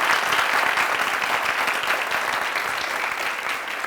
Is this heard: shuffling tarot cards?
no